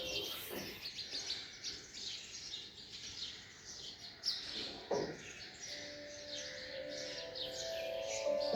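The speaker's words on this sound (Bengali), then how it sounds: "সকালবেলা বিভিন্ন রকমের পাখি আসে আর এরকম ডাকতে থাকে।" Assorted birds chirp and call around a rooftop garden feeder in the morning, a steady stream of small tweets and trills at moderate distance, with one louder nearby call partway through and a sustained whistling note toward the end.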